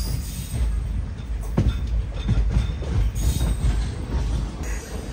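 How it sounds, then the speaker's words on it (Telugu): A Hubbali Express train pulls away from Settigunta station with a steady low rumble, wheels clattering and squealing close by under a continuous broadband roar, with brief sharper clanks along the way. "హంసఫర్ సెట్టిగుంట ఆగింది మన ట్రైన్, బయలుదేరిపోతుంది కూడా"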